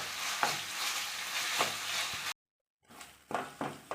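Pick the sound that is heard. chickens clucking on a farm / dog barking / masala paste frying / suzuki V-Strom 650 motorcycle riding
masala paste frying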